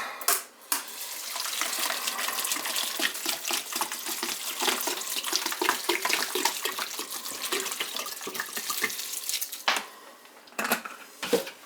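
Water pours steadily into a stew pot of broccoli, cauliflower and hot sauce for a hearty meal-prep stew, a continuous close splashing stream running about ten seconds with brief pauses near the end.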